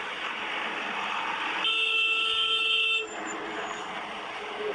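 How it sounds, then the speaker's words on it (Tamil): A sustained vehicle horn blast sounds for about a second and a half over busy street noise in Srinagar, then cuts off as the traffic din continues. "என்னமோ வேகமாக ஊருக்கு சேர போகிற மாதிரி ஹார்ன் அடிக்கலாம்."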